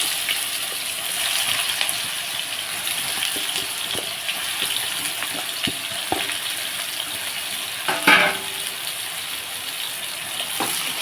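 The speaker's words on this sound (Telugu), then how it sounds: "ఇప్పుడు ఇందులో ఆనగాయ మొక్కలు వేసుకున్నాం ఇవి కొంచెం నూనెలో మగ్గనివ్వాలన్నమాట" Pieces of bottle gourd cooking in hot oil in a pan, a steady soft sizzle and hiss with occasional small pops and a brief stir-like clatter midway, close up with no talking.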